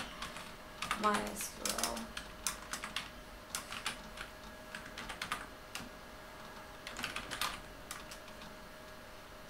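Keystrokes clatter in quick irregular bursts on a computer keyboard as a command is entered in Windows Command Prompt for remote management, with someone speaking briefly over the typing.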